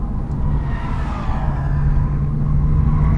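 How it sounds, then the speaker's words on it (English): Porsche 997 Turbo with COBB Stage 2 tuning and Pilot Super Sport tires, running hard on a track; a steady loud engine drone and road rumble fill the recording, with a sustained tonal whine that may be tire squeal. "Pilot Super Sport squealing for dear life"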